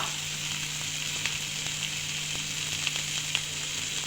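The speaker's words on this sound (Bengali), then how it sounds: "যতক্ষণ না টমেটোটা গলে যাচ্ছে ততক্ষণ আমি পেঁয়াজের সঙ্গে এটা নেড়ে নেব" Tomato and onion frying in a pan while being stirred, a steady close sizzle with occasional soft scrapes and clicks from stirring throughout.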